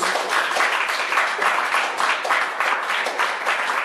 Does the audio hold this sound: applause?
yes